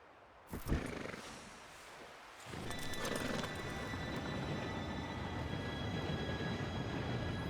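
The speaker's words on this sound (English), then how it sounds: "Train should be here any minute now." A train approaches in the video game Red Dead Redemption 2: after a near-silent start and a single dull thump, a loud, steady rumbling roar rises suddenly and holds, with faint high metallic tones riding over it, and no talking.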